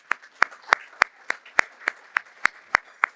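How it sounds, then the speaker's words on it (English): Sharp hand claps ring out in an even, steady rhythm, about three per second, as a group claps together in time. "Oh, let's clap for Dan."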